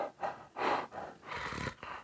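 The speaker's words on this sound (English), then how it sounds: "And when I start to press and keep on taking a breath, listen to that." Raspy breaths pushed through a constricted throat, a guttural Hebrew chet sound, several quiet hoarse bursts close to the mic with short gaps between.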